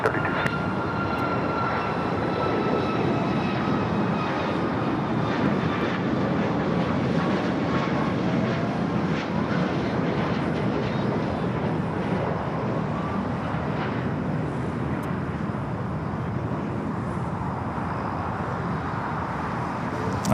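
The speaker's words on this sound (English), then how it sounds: "Flight taking off was Alaska Flight 1368 heading to Seattle, a 737 MAX 9." A Boeing 737 MAX 9 jet takes off from LAX, its engines making a steady, loud, broad roar with a rising whine that holds for the full twenty seconds and nothing else heard.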